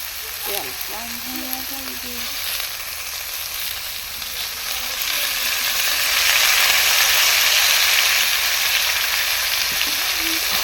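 Steady oil sizzle of raw banana frying in a wok, swelling louder partway through, with a few faint clanks early on and no talking.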